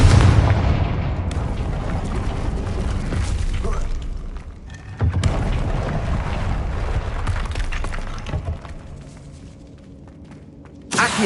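Explosive blasts of the Confringo spell in Hogwarts Legacy, with booming bursts and crackling debris around the start and near the five-second mark, then rumbling fading toward the end.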